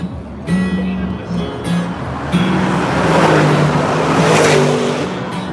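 BMW cars driving by on a busy Friday-night street in Ufa, Russia, their engine noise swelling and fading beneath steady nearby conversation.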